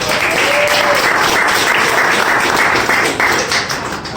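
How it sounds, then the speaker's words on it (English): Dense, sustained audience applause at a magic and comedy show, a loud wash of many hands clapping that holds steady and then eases slightly toward the end. "One more round of applause for these two"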